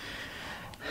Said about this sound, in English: It was him breathing, I suppose.